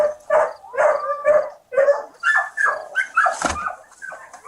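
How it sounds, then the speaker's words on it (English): A friendly dog behind a backyard chain link fence barks again and again, loud and close, in a fast run of yips and woofs with brief gaps between them. "There's a dog on the other side."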